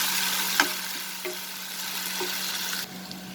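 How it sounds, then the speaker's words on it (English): Ginger garlic paste sautéing with onions in a pan, a soft steady sizzle with a few clinks and scrapes of a spoon, close but fairly quiet, with no one talking. "I'll add the ginger garlic paste. We'll saute it till the raw smell disappears."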